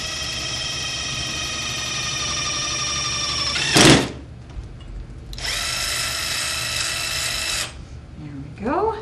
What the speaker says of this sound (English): we are going to drill a hole.